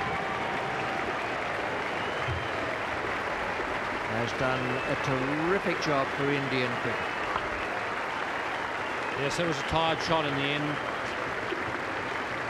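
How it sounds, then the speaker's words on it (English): Sustained applause from the cricket crowd at the Sydney Cricket Ground for VVS Laxman's innings, a steady wash of clapping heard under a commentator talking throughout. "He's getting a terrific hand from the SCG crowd."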